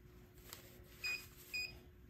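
Two short, high electronic beeps about half a second apart from a heat press signalling it has reached 375 degrees, clear over a quiet background hum.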